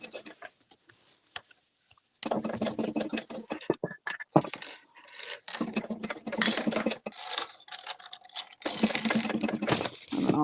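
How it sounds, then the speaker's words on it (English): Sewing machine topstitching a tote bag, with quiet bursts and then longer runs of rapid mechanical clatter broken by short pauses, while people talk between stretches of stitching. "And then I'll top stitch that up."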